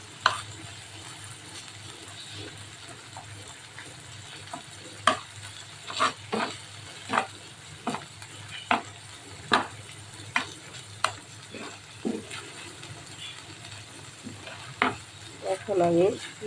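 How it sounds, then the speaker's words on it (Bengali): Marinated chicken frying with onion and garlic in a pan, under a continuous soft sizzle, with regular sharp scrapes and taps of a spatula stirring every second or so. "এখন আমি পেঁয়াজ রসুন কিছুর সাথে ভেজে নেব চিকেনটা।"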